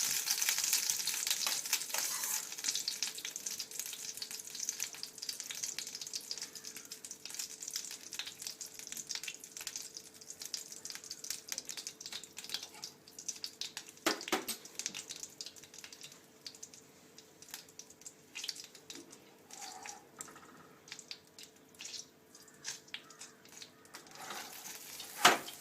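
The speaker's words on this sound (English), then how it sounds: "After some time, the butter will melt and change into a liquid state." A block of solid butter melting in a pan gives a faint, steady crackle with scattered small pops and clicks. The sound continues quietly and unchanged for a long stretch, with no voices.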